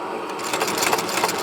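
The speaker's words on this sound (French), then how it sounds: "le principe de la machine petit point, c'est comme une machine à coudre de ménagère" A petit point stitching machine sews a Goodyear-welted shoe, a loud close rapid mechanical whirring with fast rhythmic stitching pulses throughout, no talking.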